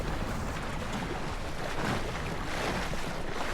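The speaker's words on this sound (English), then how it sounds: "You can see the rolling waves on the Bay of Palma." Rolling waves on the Bay of Palma heard from an ILCA dinghy under sail, a steady loud rush of water and wind noise with no talk.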